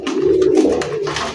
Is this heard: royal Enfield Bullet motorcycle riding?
no